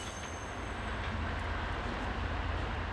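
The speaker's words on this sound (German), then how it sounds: "Trotz ihrer Leistungsfähigkeit müssen die schweren Züge jeweils mit 2 Maschinen gefahren werden." A heavy train hauled by two diesel locomotives climbs a steep mountain line between Rübeland and Blankenburg, heard as a faint, steady, broadband rumble with some rail noise and no talking.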